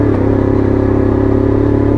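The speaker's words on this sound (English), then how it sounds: "Into 4th gear. Once you're into 4th gear, whack that throttle open" A WK Colt 50cc geared motorbike pulling hard in fourth gear with the throttle opened wide, a steady buzzing engine drone that stays loud and close for the whole stretch, with no talk over it.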